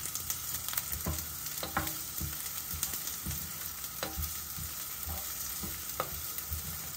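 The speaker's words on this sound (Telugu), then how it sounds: "ఇప్పుడు ఈ ఆనియన్స్ కొంచెం వేగాలి." Chopped onions frying in a pan for restaurant-style vegetable Manchurian give a steady close sizzle, punctuated by irregular scrapes and taps as they are stirred, with no talk.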